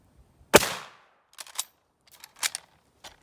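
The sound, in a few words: rifle shots from Mauser K98k or Type 38 Arisaka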